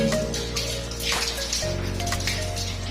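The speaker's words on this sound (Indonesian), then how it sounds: "Kemudian cuci dengan air yang mengalir hingga bersih." Hands being rinsed clean under running tap water during handwashing with soap, a steady close stream of splashing water with no voices.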